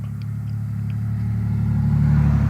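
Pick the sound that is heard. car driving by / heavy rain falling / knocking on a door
car driving by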